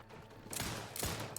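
Gunfire in The Outer Worlds 2: loud broadband bursts crack out in a quick irregular sequence, three close shots with thuds over a quieter background.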